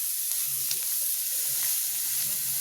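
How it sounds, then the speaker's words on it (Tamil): Chopped onion and garlic fry in a pan for a chutney with a steady, bright sizzle and crackle, heard close up with faint low stirring sounds beneath. "இப்போ நம்ம வெங்காயம் பூண்டும் சேர்த்து நல்லா வதக்கணும்."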